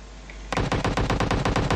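Rapid automatic gunfire from the Free Fire mobile battle royale game rattles out in a fast, even burst of close, loud shots after a brief quiet moment.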